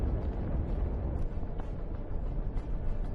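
A tank hit in combat burns, giving a continuous heavy roaring rumble with crackling bursts that stays loud and dense throughout, with no voices.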